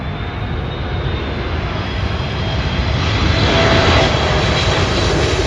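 A Korean Air Boeing 747 roars past at Heathrow, a loud sustained jet engine rumble and whine that swells slightly toward the end, heard alone without talk.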